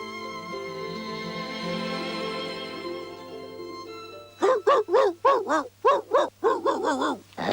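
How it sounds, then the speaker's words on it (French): A huge cartoon dog barks loudly in a rapid run of about a dozen deep, gruff woofs, following a sustained musical tone; the barks come close and regular, some paired in quick succession. "Quel énorme chien vous avez là."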